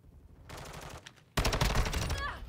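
Rapid automatic gunfire from a player's weapon in the online shooter Gunfight, a dense burst of shots starting partway through and growing louder and closer in the second half, with a voice faintly present.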